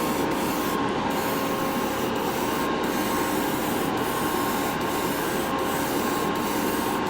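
A steady, unbroken hiss of spray paint as a light coat of primer goes on, loud and close, with only faint brief pauses in the spray and no voices.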